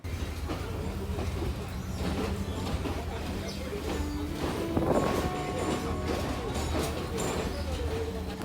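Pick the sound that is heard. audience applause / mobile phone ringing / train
train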